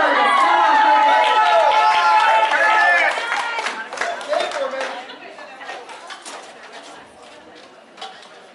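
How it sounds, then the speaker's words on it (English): Audience at a powerlifting meet cheering loudly, with shouts and crowd noise at first that fade into scattered voices and chatter as the excitement dies down. "there's got to be more people in the audience cheering for Curtis"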